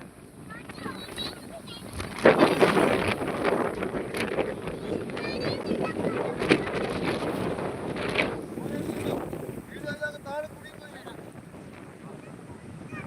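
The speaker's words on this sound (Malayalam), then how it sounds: "നല്ല കാറ്റാ" Strong outdoor wind buffets the microphone in a dry spot on a misty morning, producing a rough, gusting roar that swells and eases throughout, with people talking over it.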